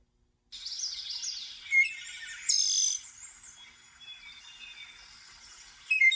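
A bird sings alone in a quiet setting, a high, sweet warbling song with varied chirps and trills, close and clear.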